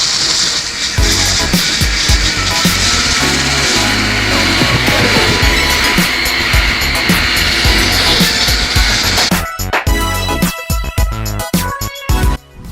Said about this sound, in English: Just keep sanding it down to evenly get rid of the tiny ones